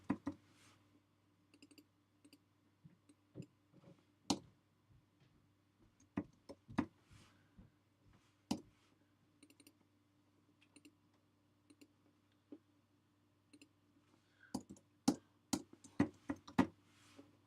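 Sparse, quiet computer mouse clicks, some in quick double pairs, spaced irregularly with near silence between them during character setup work on a computer.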